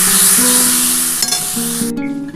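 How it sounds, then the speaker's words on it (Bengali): Spice paste of turmeric and salt with a splash of water sizzles steadily in a pan while being cooked down for a mustard parshe fish jhal, with a faint tonal hum running underneath. "দিয়ে এবার ভালো করে এটা মশলাটা কষাতে হবে"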